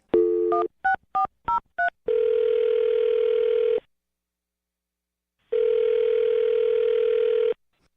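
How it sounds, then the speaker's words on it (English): A landline telephone being dialed: a quick run of separate touch-tone beeps, then a long steady tone, a pause of silence, and another long steady tone, all close and clear without speech. "I'm going to dial her phone number right now"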